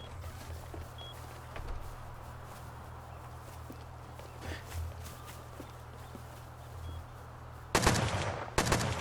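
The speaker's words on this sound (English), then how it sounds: "And more gunfire, guys." Distant gunfire crackles faintly over a low steady hum during a raid in the game Rust, with a few sharp shots and a louder burst of rapid fire near the end.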